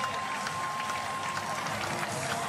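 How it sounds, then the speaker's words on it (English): A large crowd cheers and roars continuously at an inline skating world championship 20 km elimination race in Arnhem, a dense, steady wall of applause and shouting with no quiet gaps. "Oh, and the crowd goes crazy."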